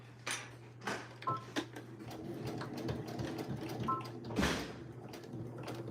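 A sewing machine back-stitching a Dollar Tree faux leather panel: a quiet, uneven whirring run with short bursts and clicks, close but low in level, with no speech.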